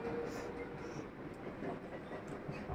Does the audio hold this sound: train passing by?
yes